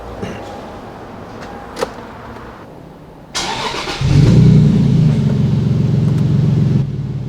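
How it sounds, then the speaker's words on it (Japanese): Toyota Supra JZA80 RZ-S with 2JZ-GTE twin-turbo six and six-speed manual cranks and fires, then settles into a loud, steady idle rumble close by after a quiet interior lead-in. "ちょっとエンジンかけちゃおうか。"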